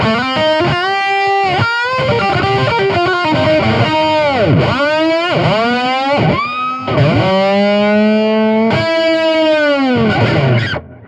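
Distorted electric guitar through an amp-simulator tone plays a singing lead line with wide vibrato and sustained bent notes, loud and close, with no voices.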